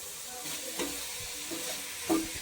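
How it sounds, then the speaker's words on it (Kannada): Vegetables fry in oil in a pan for a homemade pulao, giving a steady close sizzle with a few soft scrapes from stirring and no talk. "ಈಗ ತರಕಾರಿ ಎಲ್ಲ ಸ್ವಲ್ಪ ಚೆನ್ನಾಗಿ ಫ್ರೈ ಆಗಲಿ ಎಣ್ಣೆಲಿ."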